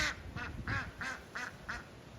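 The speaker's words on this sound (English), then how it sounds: "We've seen one domesticated duck in here" A domesticated duck at a resort property quacks six times in a steady, evenly spaced series, fairly close and clear against a quiet outdoor background.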